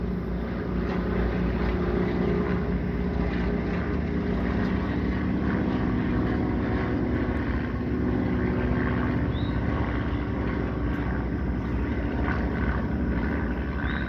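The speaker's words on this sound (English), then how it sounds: "Look at these planes, biplanes going by." Propeller biplanes passing overhead, heard as a steady broadband drone with a low engine hum, fairly loud and continuous throughout with no talking.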